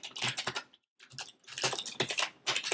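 Fast typing on a computer keyboard, a dense clatter of close key presses in quick bursts with one brief pause partway through.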